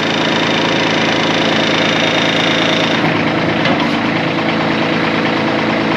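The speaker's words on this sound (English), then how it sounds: "I'm just going to adjust my bucket here for a second." Kubota BH77 backhoe engine idling steadily and loudly up close, a dense continuous drone whose pitch shifts slightly partway through as the bucket is adjusted.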